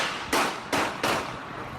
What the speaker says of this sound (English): Shots ringing out just after noon